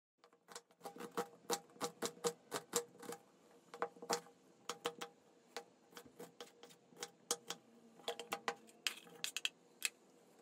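A knife chopping onions finely on a board for a börek filling, a run of sharp, quiet, close taps in uneven bursts with short pauses between.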